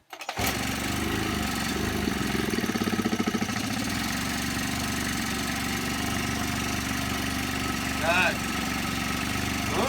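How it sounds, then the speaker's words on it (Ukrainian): A Honda Dio scooter engine idles steadily and close by after a cylinder replacement, a continuous buzzing drone with a brief uneven pulsing early on and a faint squeak near the end; no one talks over it. "ми запустилися. Зараз підстроїмо наш карбюратор."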